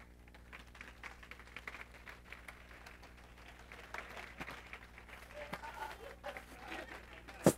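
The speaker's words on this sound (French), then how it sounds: "On peut l'applaudir." Audience applause at a stage show as a guest playing Martin Luther is welcomed on, a faint, steady wash of clapping over a low sustained hum, swelling slightly toward the end.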